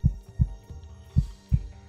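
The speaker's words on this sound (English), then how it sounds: "I could feel my heart pounding in my chest" A deep heartbeat sound effect for a horror story thumps in slow doubled beats, loud and close over a low hum, with no voice.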